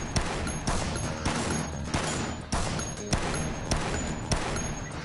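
Gunfire from the player's weapon in a video game, sharp repeated shots in an uneven rapid rhythm, each a loud crack with a short decay, continuing steadily throughout.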